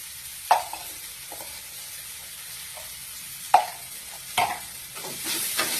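Ground coriander and roasted cumin powder stirred in a frying pan, with a few sharp scraping clinks of the spoon against the pan over a faint low sizzle, heard alone.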